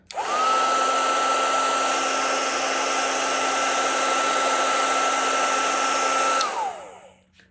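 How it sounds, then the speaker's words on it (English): A heat gun blows steadily across machine embroidery on a cardinal ornament, lifting heat-erasable pen marks; a loud, even roar with a fixed whine holds for about six seconds, then cuts off and winds down. "all of these pink marks come off with my heat gun"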